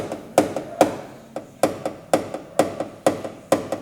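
A hammer taps out a dent in a car body panel during paintless dent repair, about nine sharp, close metallic knocks in a fairly regular rhythm with no talk.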